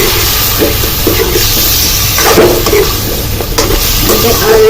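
Country chicken pieces fry over a high flame in a loud, dense, continuous sizzle heard up close, with a few stirring scrapes and no speech.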